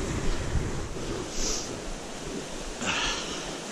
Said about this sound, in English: babbling brook, waterfall. Soundtrack to go to sleep to